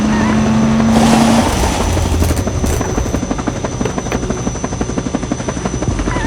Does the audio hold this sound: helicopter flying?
yes